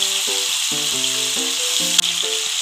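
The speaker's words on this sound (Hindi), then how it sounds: "इसमें मैं चॉप किए हुए आलू डाल दूंगी।" Chopped potatoes fry in oil in a pan for an omelette, giving a steady, close hiss of sizzling over light background music.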